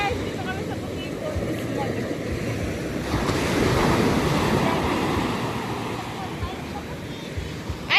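Big ocean waves surge and break in a steady, loud wash of surf with wind buffeting the microphone, swelling to a heavier crash midway before easing; no talk is heard over the roar.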